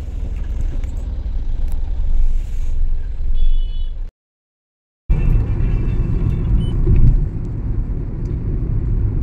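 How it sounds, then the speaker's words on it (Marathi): A car creeping through heavy road traffic gives a continuous low engine and road rumble from inside the vehicle, cut by a brief full dropout midway before the same rumble resumes. "आणि ॲज युज्युअल लागलेली आहे आम्हाला ट्रॅफिक."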